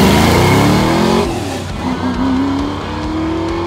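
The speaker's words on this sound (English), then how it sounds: "So my favorite vehicle to want to see on the line was this Mustang." A V8 Ford Mustang accelerates hard at a drag race, its loud engine roaring as it climbs through a gear change mid-run, close and unbroken by talk.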